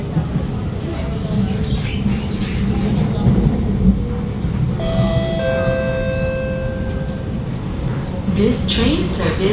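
SMRT Alstom R151 train running between Bukit Batok and Jurong East, a steady loud rumble with rising and falling whines of the motors, close and continuous.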